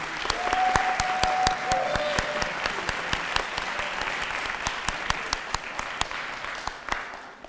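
An audience applauds graduates at a Chipola College School of Education pinning ceremony, a sustained, fairly loud wash of clapping with sharp individual claps standing out, easing off slightly near the end.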